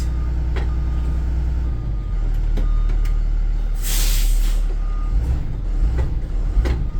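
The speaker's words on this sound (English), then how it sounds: "We're going to put it in drive or in gear and accelerate." A school bus is put in gear and accelerated against its set parking brake during a pretrip inspection, its engine rumbling loud and close while reversing beeps and a brief hiss of air sound over it.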